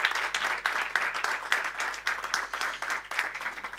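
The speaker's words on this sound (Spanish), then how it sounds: "Un aplauso, por favor, para Pablo Echenique." An audience at a Spanish political event applauds, with the clapping falling into a loose rhythmic beat of repeated bursts, fairly close and lively, and no talking over it.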